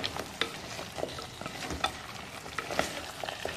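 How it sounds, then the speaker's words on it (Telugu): Drumsticks are stirred into a mushroom curry in a hot pan, with a spoon scraping and knocking in an irregular rhythm over a soft sizzle, close and fairly quiet. "సో మునక్కాయలు వేసుకుని కలుపుకుందాం."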